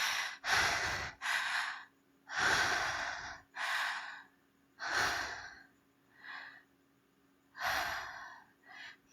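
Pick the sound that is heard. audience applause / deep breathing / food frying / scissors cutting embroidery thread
deep breathing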